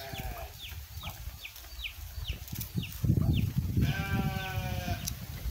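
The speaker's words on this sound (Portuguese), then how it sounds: "Bode estão tudo berrando." A herd of goats bleats repeatedly on a farm, several animals calling in overlapping cries at close to middle distance, with a denser burst of bleating and rustling toward the end; chickens may be faintly mixed in.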